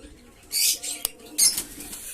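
Pigeons stir in a loft on a rainy day, with short bursts of wing flapping and shuffling, a single sharp tap, and faint soft cooing, all close and fairly quiet.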